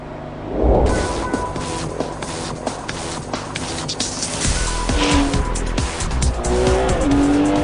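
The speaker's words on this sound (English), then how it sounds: "That's a real snappy jerk when you change gear in 100 milliseconds." A Ferrari 599 GTB Fiorano driven hard with rapid gearshifts, its engine roaring loud and close with sharp shift breaks, rising revs and a touch of tire noise.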